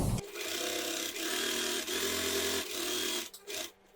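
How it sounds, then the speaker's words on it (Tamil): A sewing machine runs a continuous stitch along the seam of a women's cigarette pant, whirring steadily with a few brief pauses before a stop at the end. "பின் பண்ணிட்டு நம்ம ஒரு 1/4 இன்ச் இருக்கிற மாதிரி இப்படி ஸ்டிச் பண்ணிக்கலாம்."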